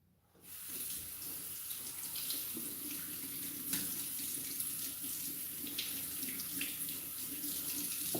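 Water from a kitchen tap pours steadily into the sink, a continuous close hiss and splash that starts abruptly and runs on evenly for several seconds.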